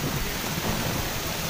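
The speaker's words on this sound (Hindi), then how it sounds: "दोनों देखो इतनी जोर से बारिश हो रही है" Heavy rain pours steadily and loudly in a dense, unbroken wash of noise during a downpour, with no voices.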